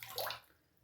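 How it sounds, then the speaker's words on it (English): A dry synthetic shaving brush is dipped under running water, giving a brief, faint splash and rush of water that quickly fades. "dip it underwater for a couple seconds"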